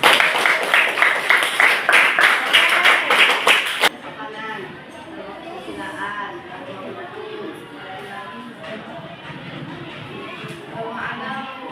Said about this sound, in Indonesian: Kasih aplaus dulu untuk Frans